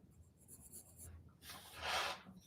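A pencil shades on paper in short, soft scratching strokes, quiet and close, with a brief pause before a louder, rougher rub.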